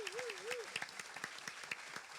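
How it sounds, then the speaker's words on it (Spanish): Light applause from a small audience for pastors at a church program, with distinct individual claps scattered at moderate distance and a faint whistle-like tone near the start. "Quisiera dar un aplauso a los pastores."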